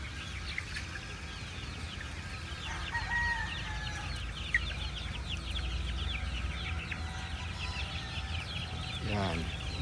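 Chickens being fed breakfast in an outdoor range area, with a continuous dense chorus of clucking and chirping from a sizeable flock and a brief rising call near the end.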